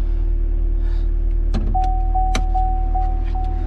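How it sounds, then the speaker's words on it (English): A 2SS Chevrolet Camaro's hood release being pulled, two sharp close clunks followed by a steady chime tone over a constant low engine-idle hum. "Let's pop the hood."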